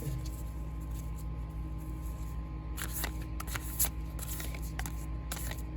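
A deck of cards is shuffled close by in a few quick riffling bursts over a steady background hum. No one talks.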